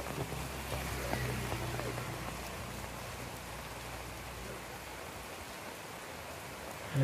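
Heavy rain pours steadily throughout while someone walks under an umbrella, a dense, even wash of drops close to the microphone with no talking.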